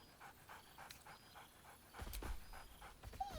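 A dog in Baldur's Gate 3 makes soft panting and whimpering sounds, a steady breathy rhythm that grows a little louder toward the end, with no talking.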